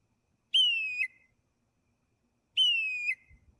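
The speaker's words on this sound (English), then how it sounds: "we can see the whistle of the bird as it changes its pitch, creating a bird call" A bird's whistled call sounds twice, about two seconds apart. Each note is clear and fairly loud, gliding slightly downward in pitch, with near-silence between the calls on a summer night.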